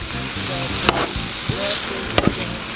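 Onion and Scotch bonnet pepper sautéing in a pot for brown stewed fish, a loud continuous sizzle with a couple of sharp utensil taps and scrapes, close up and without talking.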